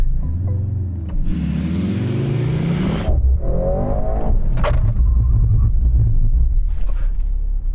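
A Mercedes-AMG C63 accelerates hard at full throttle, its engine note rising through gears, then decelerates under emergency braking to a stop, loud and close from inside the car.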